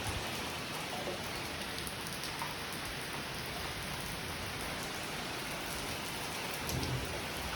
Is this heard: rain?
yes